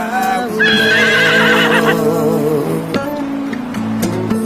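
A horse whinnies loudly and close up in a long, wavering neigh, followed by softer snorts and faint movement.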